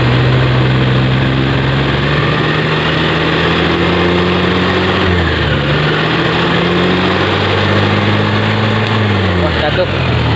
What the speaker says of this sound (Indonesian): saya tarik gas.